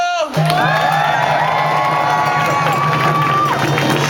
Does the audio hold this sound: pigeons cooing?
no